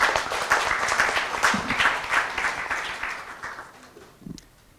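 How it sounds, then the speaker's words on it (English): An audience at the opening ceremony of an investment and market research mission claps steadily as a speaker is welcomed to the stage, the applause fading toward the end with faint voices underneath. "a big round of applause"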